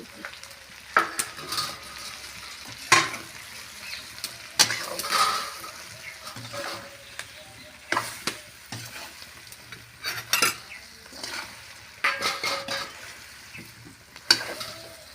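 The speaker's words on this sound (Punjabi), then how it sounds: "ਸਾਰੇ ਮਸਾਲੇ ਦੇ ਵਿੱਚ ਆਪਾਂ ਮਿਰਚਾਂ ਨੂੰ ਵੀ ਚੰਗੀ ਤਰ੍ਹਾਂ ਕਰ ਦਾਂਗੇ ਮਿਕਸ" Green chilies for pickle being stirred and tossed into spices in a pan, a run of scraping, clattering stirs with soft sizzling beneath, irregular bursts close by with no talk.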